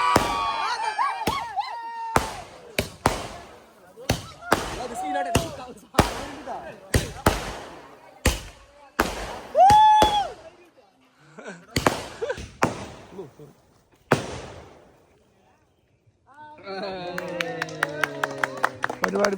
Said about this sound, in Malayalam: ഏവരും കാത്തിരിക്കുന്ന പടക്കം പൊട്ടിക്കൽ